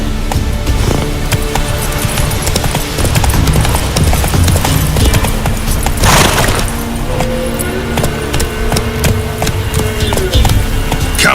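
Roach, a horse in The Witcher 3: Wild Hunt, gallops with a steady, continuous clip-clop of hooves, loud and close throughout, with in-game ambience beneath.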